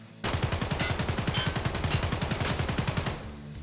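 An AK-74M rifle fires full-auto at the range in Escape From Tarkov, a close, loud, steady rapid burst of evenly spaced shots lasting about three seconds that begins abruptly and ends with a short ringing tail.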